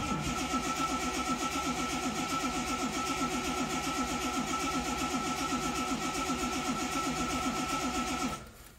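A small engine cranked with the choke on fails to catch, a long run of rhythmic, close mechanical turning that keeps a steady pulse before cutting off abruptly near the end, with no talking.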